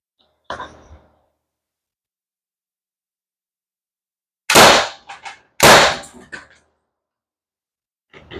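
Two sharp, loud paintball projectile shots fired at a target in quick succession, each with a brief rattling tail, follow a faint early pop, with another short hit at the very end.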